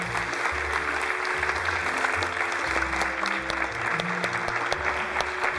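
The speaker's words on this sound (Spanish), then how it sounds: "recibamos con un fuerte aplauso a David Hevia" Theatre audience at a university event breaking into sustained, dense applause welcoming a stage director, loud and steady throughout with a faint murmur of crowd beneath.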